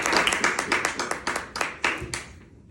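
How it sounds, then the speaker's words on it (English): Classroom audience applauding the first speaker in a college communications speech class, a short burst of close, fairly sparse hand claps that tapers off after a few seconds, with faint murmuring underneath. "Give a round of applause for the first speaker."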